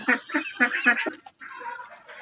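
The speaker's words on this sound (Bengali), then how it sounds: "এখানে আমাদের এই যে এখনো ছয়টা হাঁস আছে" A group of six ducks honk and quack repeatedly in a rapid, chattering chorus, fairly close, with a brief pause midway.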